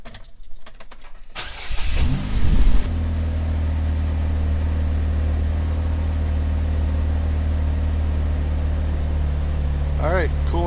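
A car engine cranks and catches after its coolant temperature sensor has been replaced, then settles into a steady, loud idle rumble that carries on for several seconds. Brief talk is heard at the start.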